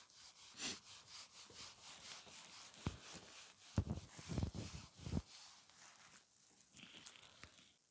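A duster is rubbed across a classroom board to erase it, giving a series of brisk scraping strokes in irregular bursts, close and fairly quiet.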